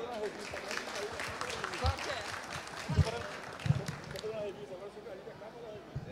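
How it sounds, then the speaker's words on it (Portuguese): Applause from an audience at a Selo Arte award ceremony for agro-industries in Espírito Santo, Brazil, a steady moderate patter of clapping with a few louder claps, voices mixed in underneath. "Palmas para a família Brioschi."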